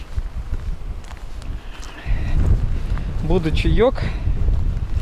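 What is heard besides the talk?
strong wind blowing on a beach, wind noise on the microphone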